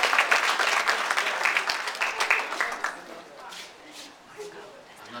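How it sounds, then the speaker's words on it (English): Audience applause at a chamber of commerce gathering, a full crowd clapping loudly at first, then tapering off over a few seconds into scattered claps. "Let's give him a big round of applause."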